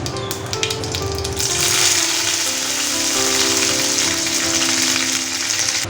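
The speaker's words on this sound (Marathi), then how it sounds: "मोहरी आता तडतडते मी आता त्यामध्ये थोडी कडीपत्त्याची पानं घालते" Mustard seeds and curry leaves spluttering in hot oil, a loud close crackle that swells into a dense sizzling hiss as the leaves go in, steady with no talk.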